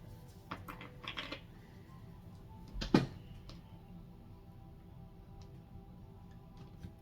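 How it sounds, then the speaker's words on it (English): A tarot deck is shuffled in a quiet room: a few soft, brief papery riffles come early, then one sharper snap of cards near the middle, followed by faint stillness. "Last shuffle here for this deck before we cut."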